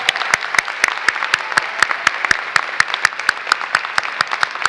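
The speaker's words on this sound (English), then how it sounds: "So please stand and give them another round of applause." Steady applause from a commencement ceremony crowd, dense clapping with regular sharp claps standing out, sustained and fairly loud throughout.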